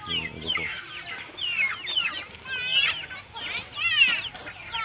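Chickens clucking on a native chicken farm, many birds calling in busy overlapping bursts close by, with loud squawks rising among the steady clucks.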